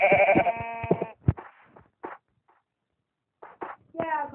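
Sheep in the Minecraft video game bleat loudly and repeatedly, long wavering blats at the start and end with short game clicks and thuds between.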